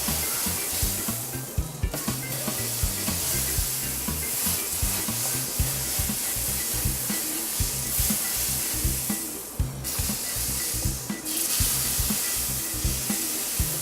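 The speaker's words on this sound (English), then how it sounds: "I'll put about 1 tablespoon of butter on the griddle. Melt it all down before you put the pancakes on it." About a tablespoon of butter melts on a hot griddle with a steady, close sizzle and crackle, under occasional scraping and shifting noises.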